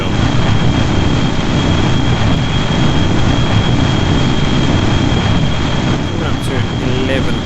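Rocket engines roar continuously in the Kerbal Space Program game as a craft climbs past the sound barrier, a loud, steady, dense rumble filling the whole stretch with no breaks.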